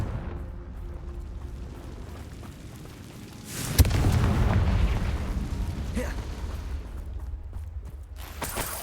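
A Confringo blasting spell explosion in the video game Hogwarts Legacy: a sharp crack followed by a loud, rumbling blast that swells and slowly fades over several seconds.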